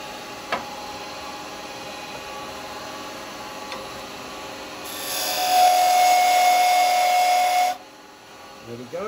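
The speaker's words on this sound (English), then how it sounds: "So I need to drill it." A power drill bores a hole through a woodturned piece that will get a tenon, a steady whining hiss of about three seconds in the middle, set between quieter workshop background and a few light knocks.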